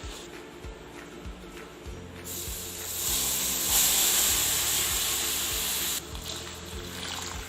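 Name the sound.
milk added to roasting gram flour (besan), hissing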